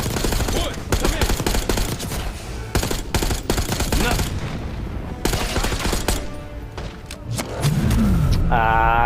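Rapid automatic gunfire and bursts of shots in the Call of Duty Black Ops 6 campaign, loud and dense throughout, with thuds and battle noise, voices barely present, and a rising electronic tone near the end.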